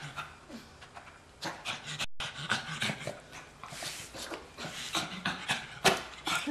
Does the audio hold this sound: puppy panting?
yes